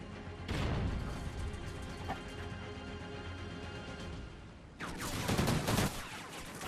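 Gunfire in the video game Call of Duty: Ghosts, a search-and-destroy match on the map Flooded, comes as a long fusillade of rapid shots, pauses briefly, then erupts again in a dense, loud burst.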